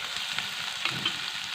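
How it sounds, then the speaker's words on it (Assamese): Onions fry in hot oil with a bay leaf for an egg curry, giving a steady close sizzle broken by soft stirring scrapes. "পিঁয়াজখিনি অকণমান ৰঙচুৱা হোৱালৈকে মই ভাজি যাম"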